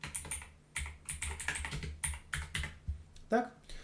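Rapid clicking keystrokes on a computer keyboard as text is typed onto a page, irregular bursts of taps close to the microphone with a steady low hum underneath and no talking.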